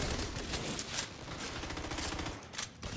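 Rapid gunfire in The Division 2 rattles in dense, steady bursts for the full few seconds, loud and close, with sharper cracks near the end.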